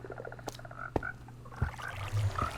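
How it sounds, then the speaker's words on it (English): Frogs croaking in a video game, with several short croaks and chirps scattered over a low constant hum, some closer and louder than others. "look at all of these frogs."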